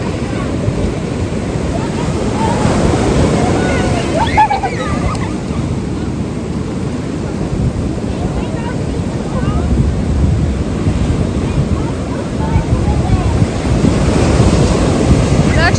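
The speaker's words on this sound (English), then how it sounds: "We are at the ocean by Kitty Hawk." Steady roar of ocean surf rolling onto the beach at Kitty Hawk, with gusting wind buffeting the microphone throughout, loud and continuous.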